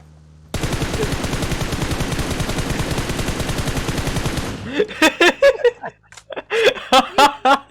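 Rapid automatic gunfire in the mobile battle royale game PUBG Mobile, a sustained loud burst of tightly spaced shots lasting about four seconds, then broken off into laughter and excited talk.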